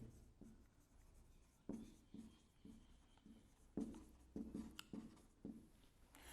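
Writing strokes sound near and faint during a math lesson, with irregular short scratches and taps on a board or paper, alone without talk.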